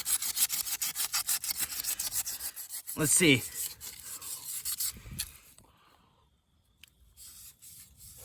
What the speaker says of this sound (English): use this ball of tinfoil, and you can just kind of rub it like that on chrome.